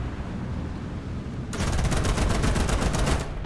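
Gunfire in the War Thunder tank game starts abruptly after a rumbling lull, then rapid, evenly spaced automatic bursts ring out loud and close for about two seconds over a steady engine drone.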